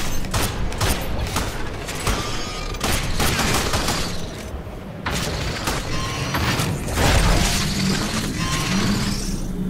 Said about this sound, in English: Let's see how a pistol deals with it.